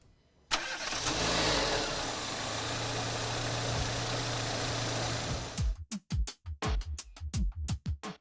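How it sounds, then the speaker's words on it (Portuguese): A conventional gasoline car engine runs at a steady idle for about five seconds, close and loud, then cuts off and leaves a series of sharp mechanical clicks. "Vamos ouvir o barulho desse motor."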